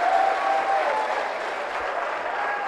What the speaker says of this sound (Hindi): जोरदार ताली आप सबकी तरफ से बजनी चाहिए।